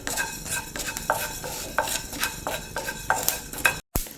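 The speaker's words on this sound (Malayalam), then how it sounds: "ഉലുവ ഇവിടെ പൊരിയുന്നുണ്ട്" Fenugreek seeds roasting in a pan for rasam powder, with a steady dry crackle under repeated scraping strokes of a spoon stirring at a regular rhythm, close and moderately loud.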